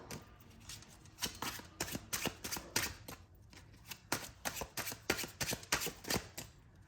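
Tarot cards are shuffled close up, a quiet, rapid run of crisp riffling flicks and soft slaps repeating steadily in the room.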